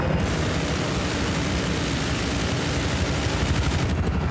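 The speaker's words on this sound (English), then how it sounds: "I got eyes on an enemy chopper." Battle noise from Battlefield 4 on the Dragon Valley map with an enemy helicopter overhead, a dense, loud and unbroken roar of rotor and engine mixed with gunfire that lasts the whole stretch.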